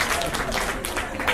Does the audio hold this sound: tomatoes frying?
no